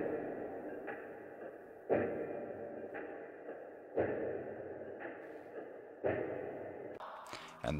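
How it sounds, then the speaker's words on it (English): An R&B percussion loop plays quietly, its soft hits repeating at a steady pace of about one per second over a hazy, sustained background, with a brighter burst near the end. "We went with a perc loop in here."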